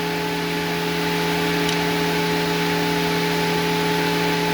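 An electric fuel pump cycles to prime the carburetor fuel system, with new PTFE lines, on a Foxbody Mustang. It makes a continuous, steady, close-up whirring hum with a few fixed tones and no pauses.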